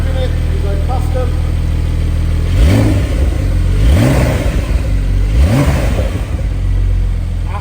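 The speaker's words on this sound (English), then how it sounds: "what are they going to hear when you're revving it, you're going past them?" A 2019 Porsche 911 Carrera 4 with PDK gearbox in sport response mode revs loudly three times in a row, each rising roar dropping back to a steady engine drone, close up and with talking over it.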